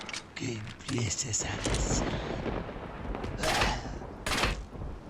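Gunfire in the video game Resident Evil 4 sounds as two sharp, loud bursts about a second apart over a rumbling in-game background.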